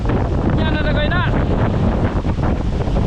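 Strong gusting wind buffets the microphone outdoors at a site where a wooden boat is being built. The roar is loud and close, and a voice speaks briefly near the start.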